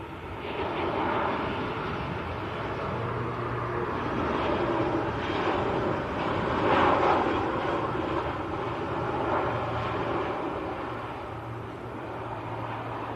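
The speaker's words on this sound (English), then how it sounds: "This is EasyJet from Gibraltar, Airbus A320." An EasyJet Airbus A320 arrives at Manchester Airport from Gibraltar, a steady jet engine roar at moderate distance that swells midway and then eases off, with no talking.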